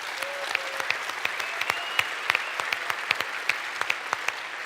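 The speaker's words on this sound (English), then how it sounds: "give this man a round of applause" A crowd at EVE Online Fanfest 2009 breaks into sustained applause, a dense wash of clapping with sharp individual claps standing out, heard from within the audience.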